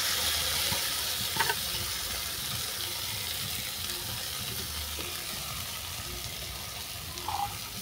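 Piring flowers and marinated shrimp hiss in hot oil with black cumin, a steady, fairly soft sizzle with a few light scrapes of stirring.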